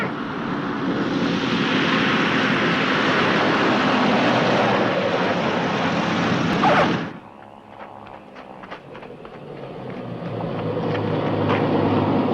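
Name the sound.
propeller airplane flying overhead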